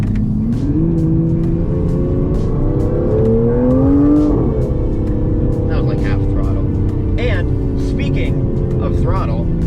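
Aston Martin Vanquish with its all-new 5.2-litre twin-turbocharged V12 under way, a steady engine drone that climbs in pitch around the middle as it revs and then settles, with a person talking over it throughout.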